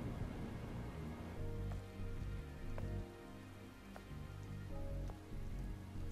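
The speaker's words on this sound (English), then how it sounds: "This must be Earth's rain." Rain falls in the video game Stellar Blade, a steady, soft hiss of drops on surfaces that continues evenly throughout, with faint tonal background sounds underneath.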